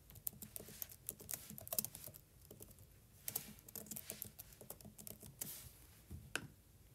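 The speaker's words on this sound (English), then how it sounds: "So we could type in here." Text typed on a computer keyboard in a steady patter of close, soft key clicks with brief pauses, continuing for several seconds with no voices.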